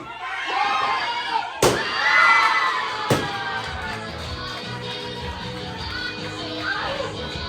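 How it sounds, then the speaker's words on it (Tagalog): A crowd of children shouts and cheers loudly at a Thanksgiving party game, with two sharp slams cutting through the noise. The excited voices then ease into lively chatter and scattered shouts. "Sigaw, sigaw, sigaw, sigaw!"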